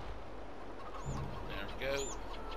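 Chickens cluck in the Farming Simulator 22 video game, with a few short clucks and calls over a steady low engine-like rumble and background noise.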